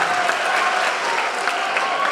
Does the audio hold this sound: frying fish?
no